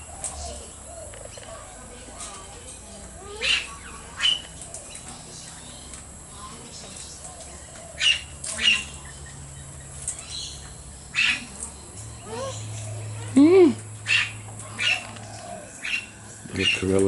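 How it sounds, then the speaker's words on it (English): Little corella parrot calling from a fence while a young king parrot feeds alongside, sharp scattered squawks and chirps at irregular intervals over a quiet outdoor background with soft cooing. "Little Corella's making noises."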